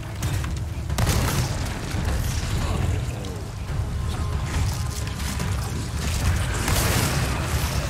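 Bomb blasts in the Resident Evil 4 Remake game boom heavily, with deep rumbling and crashing debris that keep rolling for several seconds, loud and close, with faint voices beneath.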